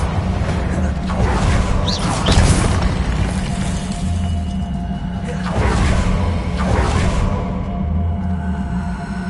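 Confringo fire spell blasts in Hogwarts Legacy: two heavy booming explosions with crackling bursts land around the two- and six-second marks, each rolling off over a steady rumbling game ambience.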